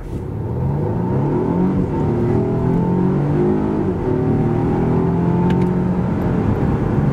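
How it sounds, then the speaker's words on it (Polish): A Volvo V60 T8 hybrid accelerates hard from standstill to 100 km/h, its engine note rising through gears in a loud, continuous whirring roar with shifting pitch. "zestaw ten zapewnia takie przyspieszenie od 0 do setki"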